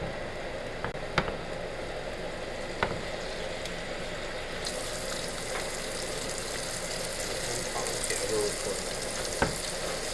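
Pork chops frying in a skillet with rendered fat, a steady close sizzle and crackle running throughout, broken by a few sharp pops.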